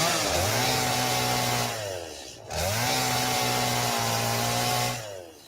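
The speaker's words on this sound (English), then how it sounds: "Let's see if we can use a chainsaw on these things." Chainsaw cutting plants in the video game Satisfactory, two loud sustained revving bursts that rise, hold steady, then wind down with a short pause between them, no talking.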